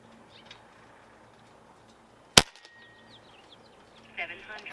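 A single sharp crack of a Niksan Escalade T .22 air rifle firing a pellet at a range target, one isolated loud shot in a quiet outdoor setting with faint birdsong afterward.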